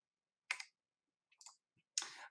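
Mouse clicks on a computer while scheduling an appointment in booking software: three short, sharp clicks spaced apart, close and fairly faint in an otherwise quiet room.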